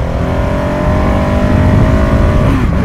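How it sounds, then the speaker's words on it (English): A loud single-cylinder 2015 KTM 690 Enduro R motorcycle engine revving close by, its pitch climbing steadily over a few seconds with a rough, throbbing rumble underneath. "It wants to rev and pull you back"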